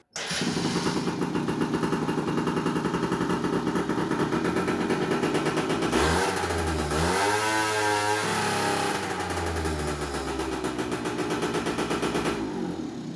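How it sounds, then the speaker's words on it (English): A small engine runs loud and close with a rapid, steady rattling idle, then revs up and falls back in a rising-and-falling surge midway before settling into its idle again. "it stays alive and it revs"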